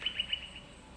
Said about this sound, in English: my cat can actually hear the birds